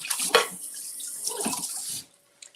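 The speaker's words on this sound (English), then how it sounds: "And we're gonna rinse off this plate that has some blackberry." Blackberries and a plate rinsed under a running kitchen tap, a steady close splash of water that stops abruptly near the end, followed by a couple of faint clinks.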